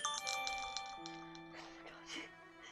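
A phone ringtone plays a bright, tonal electronic melody of sustained chiming notes, moderately faint and fading toward the end.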